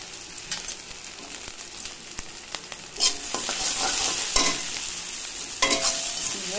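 Chopped onions and three green chilies frying in hot oil for potato chow mein give a steady crackling sizzle, broken by sharp stirring clicks and scrapes; the frying swells louder about halfway through.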